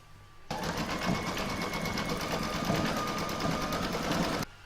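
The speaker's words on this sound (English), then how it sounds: "that's going to do the decorative stitching along the join here" An embroidery sewing machine running an in-the-hoop decorative stitch along a fabric join, giving a fast, even mechanical rattle that starts abruptly, runs steadily and loudly up close, then stops sharply, with no talking over it.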